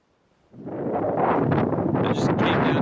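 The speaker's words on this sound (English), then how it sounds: "It's so freaking windy." Strong wind buffeting a microphone at a beach, a roaring rumble that rises abruptly after a quiet start and then blows loud and steady to the end, with no voices.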